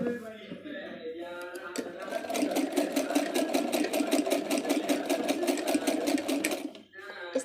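A sewing machine stitches along the edge of suit fabric, starting after a moment and running steadily at a fast, even rhythm for several seconds before stopping, close and loud, with a voice faintly present near the start.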